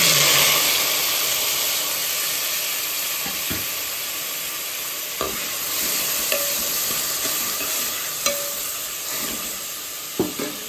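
Onion, tomato, curry leaves and green chillies fry in a hot tempering with split chickpeas, giving a continuous close hiss and sizzle with occasional scraping taps and knocks of a stirring spoon against the pan.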